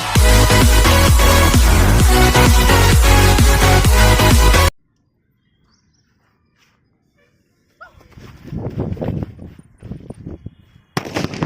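A loud, rapid string of firecrackers bursts for several seconds and stops abruptly. After a silent gap, scattered sharp pops and crackles follow.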